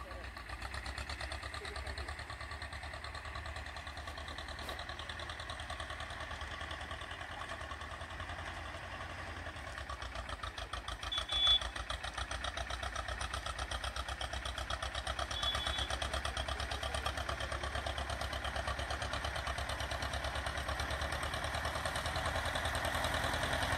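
An Escort 335 tractor engine idles steadily, a low, even mechanical drone that stays constant and fairly faint, growing slightly louder partway through.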